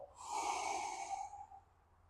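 A long, soft exhale during a kettlebell mobility stretch for the groin and hamstrings, a single breathy push of air lasting about a second and a half that fades out gently, heard close and alone.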